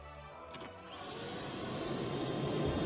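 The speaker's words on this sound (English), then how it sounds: "Oh, there's a vacuum cleaner." A cartoon vacuum cleaner starts up after a short clatter and then drones on with a rising, steady whine that fills out and grows slightly louder toward the end.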